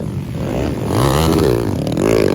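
Underbone motorcycles racing, engines revving and rising in pitch as they accelerate past, loud and continuous with overlapping engine whine.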